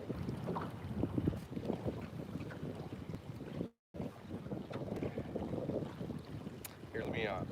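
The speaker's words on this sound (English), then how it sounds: "We still got wind on us, but it's like circling around now." Wind rushes and buffets around a small boat out on the water, a steady roaring noise with gusty swells and a brief dropout midway through.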